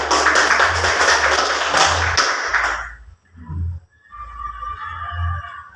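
Schoolchildren in an Indonesian classroom give a fellow student a round of applause: about three seconds of dense, loud clapping that stops abruptly, followed by a voice speaking.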